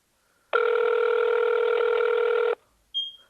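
A single long telephone ring tone on an unanswered call to a public office, steady and loud for about two seconds, followed after a pause by the start of another short tone.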